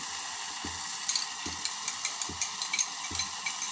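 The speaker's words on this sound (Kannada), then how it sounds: "ಇದು ಕುದೀತಿರ್ಬೇಕಾದ್ರೆ ಇನ್ನೊಂದು ಸ್ವಲ್ಪ ನಾನು ಸಾಸ್ ಹಾಕ್ಕೊಳ್ತಿದ್ದೀನಿ." Pasta sauce bubbling and sizzling in a pan, with soft, regular low pops and stirring clicks repeating about once a second under a steady hiss.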